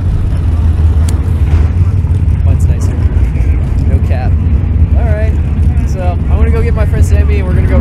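Dodge SRT4 cars at a drag racing event at Willow Springs Raceway, a loud continuous engine roar with passing vehicles throughout, voices and crowd chatter mixed in.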